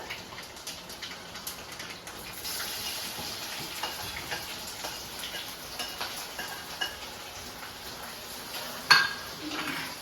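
Sliced onions dropped into hot oil already crackling with fenugreek and mustard seeds, giving a steady faint sizzle with small pops and ticks and one sharper clatter near the end.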